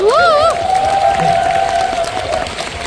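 Applause from an audience at a business group event, with a bright sustained tone and a brief whoop-like sweep at the start. The clapping is loud and close, continuing steadily for about three seconds.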